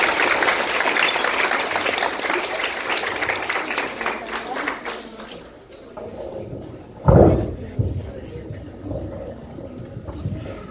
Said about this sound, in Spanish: también vamos a recibir a nuestro profesor Renato Díaz con un aplauso